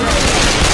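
Rapid dual-pistol gunfire in the zombie shooter Left 4 Dead 2, a dense, loud burst of shots packed tightly together throughout a brief moment of game action.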